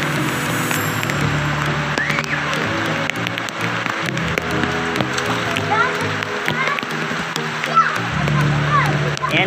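Heavy rain pours and water splashes while people bathe outdoors in the downpour, a steady close wash of noise with children's and adults' voices talking over it throughout.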